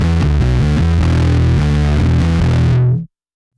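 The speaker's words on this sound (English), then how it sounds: "Let's see what the germanium sounds like." Electric bass played through a Source Audio Aftershock distortion pedal set to its germanium engine, giving a loud, fuzzy, sustained riff of repeated notes that cuts off abruptly near the end, with no talking.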